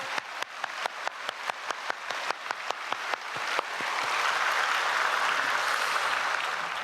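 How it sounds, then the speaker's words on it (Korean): A church congregation at a Wednesday evening prayer service claps to give glory to God. Crisp claps in unison open the moment, then swell into loud, sustained applause from the whole hall. "다시 한번 큰 박수로 하나님께 영광 돌릴까요?"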